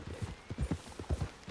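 Horse hooves clip-clopping in Red Dead Online, a steady walking rhythm of soft low thuds, fairly close and moderately loud, with no talk over them.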